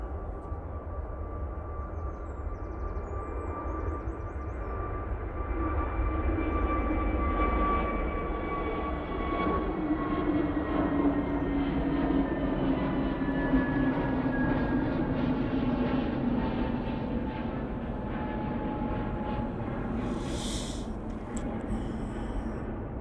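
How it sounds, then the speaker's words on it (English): A Jet2 Airbus A321neo takes off at Manchester Airport, its jet roar swelling and holding strong and steady for a long stretch before slowly fading, with no talk over it. "Next out is the Jet2 A321neo."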